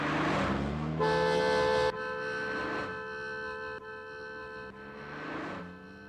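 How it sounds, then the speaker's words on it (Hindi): A car horn blares in a long steady honk, with a second shorter toot, over faint traffic rumble nearby. "गाड़ी आ रही है, हॉर्न बजाओ।"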